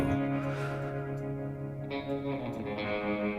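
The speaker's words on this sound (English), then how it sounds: "Nothing like that splashy reverb and tremolo." A sustained electric guitar chord washed in heavy reverb and wavering tremolo, swelling and shimmering on its own with no voices.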